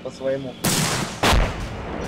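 Two heavy cannon blasts from a Korean War scenario in the ArmA 2 ACE military game, the first booming out after a brief voice and the second, louder one about half a second later, each leaving a rumbling tail.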